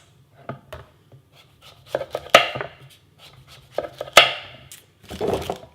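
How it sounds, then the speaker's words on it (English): A knife chops through a butternut squash on a cutting board, making a series of sharp, irregular thunks and crunches, close and clear, with short gaps between cuts and no talking. "And then you're going to just go ahead and cut this into about 1-inch sections."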